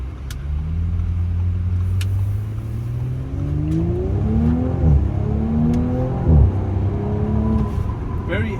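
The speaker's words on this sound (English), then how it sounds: "Very effortless pickup, fantastic acceleration, good around corners." A 2019 Audi S5 Sportback in dynamic mode accelerating hard, the engine note climbing steadily through several rising sweeps with gear changes, loud and close from inside the cabin throughout.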